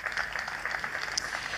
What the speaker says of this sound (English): Round of applause for the government.